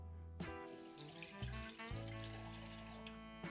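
Water from a measuring cup is poured into a pot for making oatmeal, a steady liquid stream with shifting tones and a few splashy bursts, heard alone.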